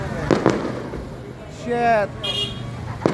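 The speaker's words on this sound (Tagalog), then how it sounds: "Fireworks. Fireworks guys. So nice." Fireworks go off outdoors with sharp nearby bangs at the start and end and a rising whistle in between. People talk and exclaim over them.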